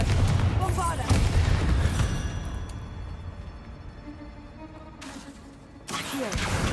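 Bombarda explosion spell in a Harry Potter video game, heard as loud booming blasts with rumbling decay, the bursts opening and closing the stretch over shouted spell names.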